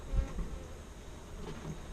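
Honeybees hum in an open wooden beehive, a steady close buzz with a few brief louder knocks at the start and no talk.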